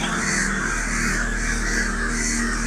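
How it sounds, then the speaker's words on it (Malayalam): Crows caw repeatedly and loudly while circling overhead, several overlapping calls in a steady chorus with a constant low hum underneath. "കാക്കകൾ വട്ടോട്ട് പറക്കുന്നുണ്ട്"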